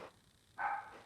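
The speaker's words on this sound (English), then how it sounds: "Sorry, apologize for my dog barking." A pet dog barks once indoors, a brief mid-pitched bark standing out over a quiet room tone.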